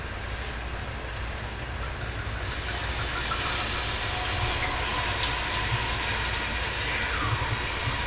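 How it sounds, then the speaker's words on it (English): Wine poured into a hot pan over medium-high heat for braised short ribs, a steady loud sizzle and hiss that runs unbroken and rises slightly as the liquid spreads. "I'm going to add about 2 cups of wine to the pan"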